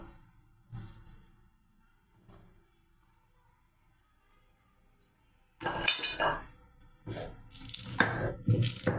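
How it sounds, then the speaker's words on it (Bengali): Garlic and green chillies being ground on a grinding stone: a quiet stretch with a few faint scrapes, then loud, continuous rough rubbing and scraping with bursts. "এখন রসুন আর কাঁচামরিচ বেটে নেব"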